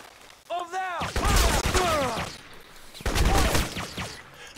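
Bursts of rapid gunfire in the video game Crysis come in two clusters, each a dense crackling volley lasting about a second or two, separated by a short lull.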